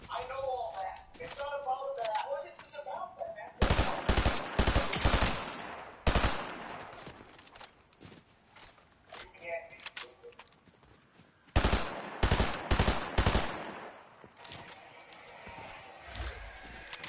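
Video game gunfire, loud rapid bursts of automatic fire in several separate volleys alternating with quieter stretches where a player's voice talks.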